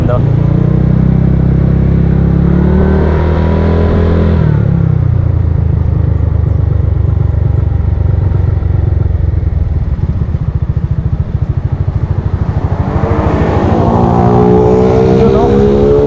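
A Suzuki Skydrive 160cc scooter running on its stock carburetor after a fix drones loudly and close, revving and pulling hard in a sustained accelerating run, with wind buffeting and voices now and then.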